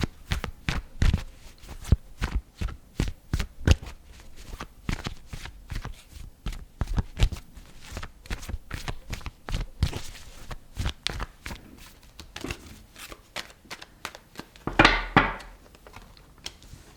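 Tarot cards are shuffled close up in a steady run of crisp flicking and tapping riffles lasting many seconds, with a louder burst of handling near the end and no talking.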